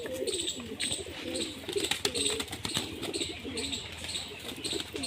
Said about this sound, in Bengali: এই হলো আর একটা গিরিবাজ